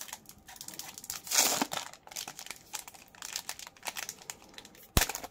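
A Yu-Gi-Oh booster pack wrapper is torn and crinkled open at close range, with a louder rip burst near the start, scattered crackles of foil after it, and a sharp snap near the end.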